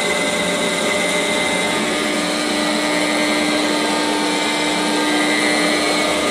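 A slack drive belt slapping around during a power test on a Quantel Paintbox being restored, heard as a steady, loud mechanical whir and rapid flutter with constant hum that stays unchanged throughout.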